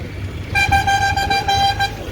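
A car horn honks in one sustained blast of about a second and a half on a busy road in Puri ahead of Ratha Yatra, loud against a steady low rumble of traffic.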